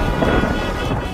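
Loud rain and thunder in a brief burst, a dense rumbling roar with rain hiss throughout and no voices.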